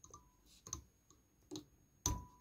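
Fly-tying scissors snip thread at the vise while a nymph trout fly is tied; a few faint, sharp clicks come at irregular intervals, with one louder snip near the end, in a quiet room with no talking.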